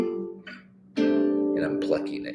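A brief spoken phrase, then a guitar chord plucked together with a bass note rings out clearly and sustains, with a few more notes picked on top, close and fairly loud.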